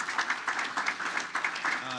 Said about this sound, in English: Let's give them a round of applause for putting this together for us.